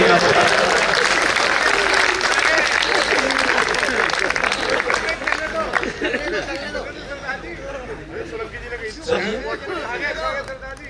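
Audience applause and cheering at a Hindi comedy poetry show, loud and dense at first, then thinning into scattered clapping as laughter and crowd chatter rise and carry on underneath.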